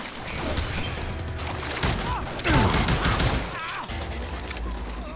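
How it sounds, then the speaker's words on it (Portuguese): Rapid revolver gunshots in the Western shooter game Call of Juarez Gunslinger, a burst of sharp, close shots and crashing impacts under someone talking. "Ela não é tão potente, ela dá uns tiros rápidos da porra."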